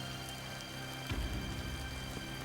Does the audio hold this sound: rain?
yes